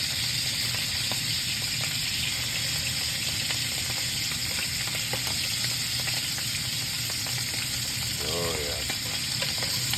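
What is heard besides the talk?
raccoon meat searing and sizzling in butter in a pan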